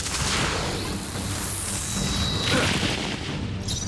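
A fiery spell attack erupts in Metaphor: ReFantazio with a loud booming blast, a sweeping whoosh and crashing impact, dense and sustained, with a sharp flare near the end.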